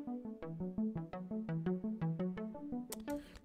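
An arpeggiated lead synth line from a verse runs through a quick, evenly spaced sequence of bright plucked notes, fairly soft, closing with a short burst of hissy noise.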